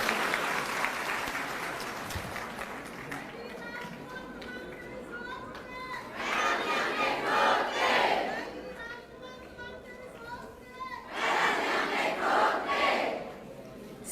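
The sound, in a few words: crowd applauding and cheering at political rally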